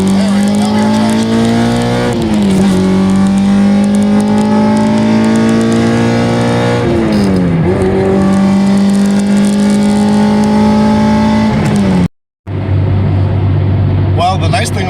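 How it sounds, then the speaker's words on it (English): A Honda K24A2-swapped car pulls hard up through first, second and third gear on a mountain road, the engine note climbing and dropping loudly with each shift, with a short gap near the end. "let's try another first gear roll. 2nd gear, 3rd gear."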